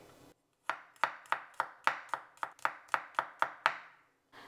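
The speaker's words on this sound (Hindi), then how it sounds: "गार्लिक को भी हम पतला स्लाइस कर लेंगे।" A knife slices garlic thinly on a cutting board, about a dozen crisp, evenly spaced chops ringing out close and clear, with no talking.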